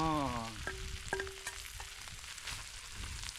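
Thai curry paste sizzles and fries in a pan at a campsite while beef curry with turmeric shoots is cooked, with a steady crackling hiss and a few short clinks of a utensil.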